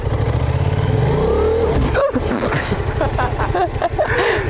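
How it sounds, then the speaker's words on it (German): A new motorcycle revving loudly as a beginner rider pulls away with too much throttle and the clutch let out too fast: a close, droning engine note that rises, stumbles briefly, then picks up again. "Du hast zu viel Gas gegeben und die Kupplung zu schnell kommen lassen."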